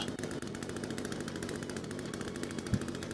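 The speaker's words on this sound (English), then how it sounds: "After all, we do have the mighty chainsaw." A chainsaw running in the video game The Forest, a loud, continuous buzzing engine drone with a fast rattling pulse, steady for a few seconds with one brief thump near the end.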